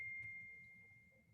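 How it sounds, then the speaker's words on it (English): A mobile phone notification sounds as a single thin, steady high tone that rings briefly and slowly fades, faint against a quiet low background hum. "It's my phone going off."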